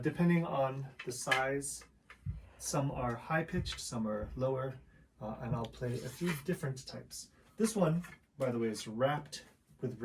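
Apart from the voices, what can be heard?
No everyday noise stands out behind the speech.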